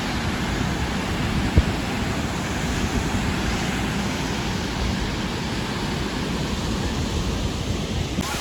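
Muradiye waterfalls in Van rushing with a steady, loud, broad roar of falling water, heard close and continuous with no breaks.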